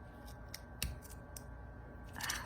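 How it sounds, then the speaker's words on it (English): Cheap craft scissors snip through color nail polish strips, several quick, close, crisp cuts spaced irregularly, with a louder snip near the end against a faint steady hum. "Find the sweet spot again with these crappy craft scissors."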